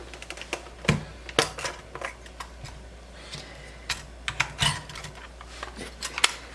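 Film goes into a Canon New Autoboy compact camera, with a quiet, close series of small plastic clicks and snaps scattered irregularly over a few seconds.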